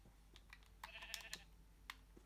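Minecraft sheep give a few short, faint bleats in quick succession alongside soft keyboard-like clicks, with no talk over them.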